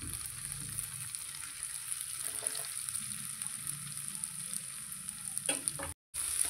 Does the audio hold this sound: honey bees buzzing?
no